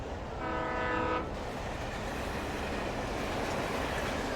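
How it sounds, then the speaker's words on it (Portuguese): A train horn sounds clearly for about a second in the video game Alan Wake Remastered, followed by a steady rumbling wash of a passing train with no talking. "Ah, pegou um trem, mano."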